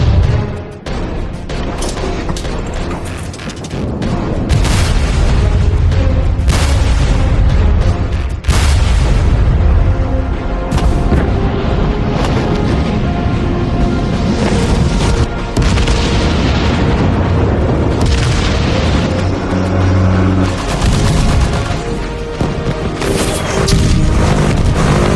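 World of Warships naval combat plays continuously and loudly, with repeated deep booming gunfire and crashing explosions layered over a dense game soundtrack and no speech.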